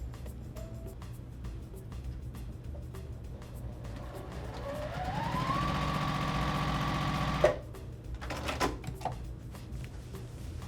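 A sewing machine stitches binding onto a quilt edge in one sustained run, its motor whir rising in pitch as it speeds up and then stopping abruptly with a clunk, followed by light handling noises.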